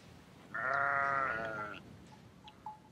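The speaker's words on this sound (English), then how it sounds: "They allow hundreds and thousands of sheep and goats to walk across here" A sheep or goat bleats once in a long, clear, wavering call, fairly close, on open grazing land crossed by large flocks of sheep and goats; a few faint distant bleats follow.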